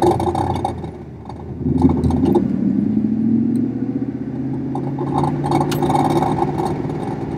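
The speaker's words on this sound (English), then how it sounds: "Getting a lot of exhaust rattle from the missing." Pontiac Firebird Trans Am engine misfiring under partial throttle while driving, a loud uneven rumble with rattling and clattering exhaust, the engine note swelling and easing over several seconds with no talk.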